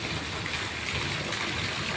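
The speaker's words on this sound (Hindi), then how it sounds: "बारिश लगी हुई है" Rain falls steadily on a flooded street, a constant broadband hiss and patter like running water, close and even throughout with no talk.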